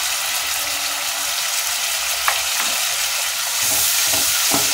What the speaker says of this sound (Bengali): দিয়ে মশলাটা কষাতে থাকলাম